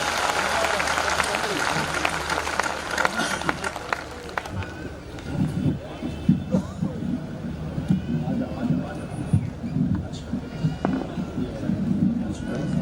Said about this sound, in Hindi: दोनों हाथ आकाश में उठाकर जोरदार तालियों के साथ आपके कवि सम्मेलन का आरंभ